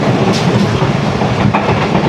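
Karakoram Express passenger train running at speed through a large station in Karachi, a loud close rumble with rhythmic clickety-clack of wheels over rail joints, continuous and alone.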